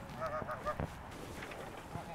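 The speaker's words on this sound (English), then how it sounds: "We got some Siberian red-breasted geese here." Siberian red-breasted geese honking in a pen, a few short, faint nasal calls early on, with a person speaking quietly nearby.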